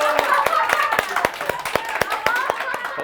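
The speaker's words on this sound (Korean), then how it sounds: "자, 여러분, 박수!" Small audience at a fan meeting clapping in a steady rhythmic beat, sharp regular claps close by over a murmur of voices and some talking.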